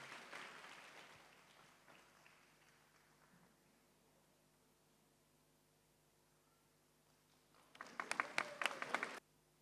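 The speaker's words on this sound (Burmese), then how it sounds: "အားလုံးလက်ခုပ်တီးပြီးတော့မှဂုဏ်ပြုပေးပါဦး" Wedding guests at a church ceremony burst into a short round of applause near the end, loud and close, after a long stretch of quiet room hiss.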